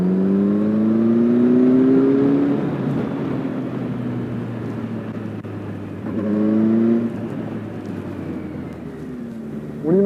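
A 2015 Kawasaki Versys 1000 four-cylinder motorcycle engine revs up in a loud rising howl, drops back, then climbs again in a second shorter rev, with a steady idle rumble underneath.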